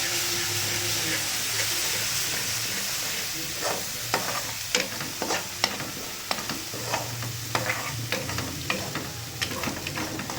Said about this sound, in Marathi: अशा पद्धतीने सगळे मसाले टाकून व्यवस्थित फ्राय करून घ्या, मिक्स करून घ्या